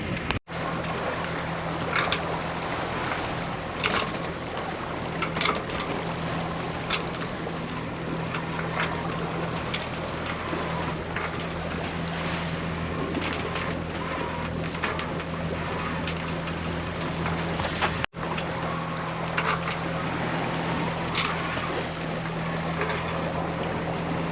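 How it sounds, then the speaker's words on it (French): A sailboat's engine drones steadily throughout while motoring, mixed with wind buffeting the microphone and a sharp knock partway through. "on a dû remettre le moteur parce que le vent était vraiment instable"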